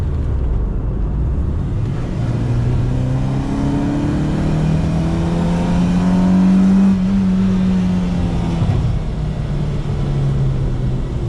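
A modified Honda City VTEC Type 2 engine revving hard past 5500 RPM, a sustained loud droning tone that climbs and holds high before easing slightly, close and continuous with no speech.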